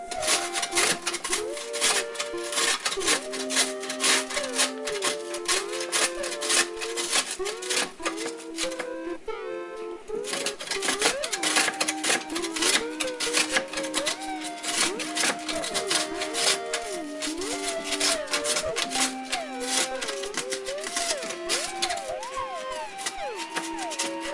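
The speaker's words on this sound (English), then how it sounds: "Mandolin setting of the cheese grater." Cheese rasps steadily across the mandolin side of a cheese grater while pizza toppings are prepared, a continuous close scraping rhythm with short repeated strokes and no talk.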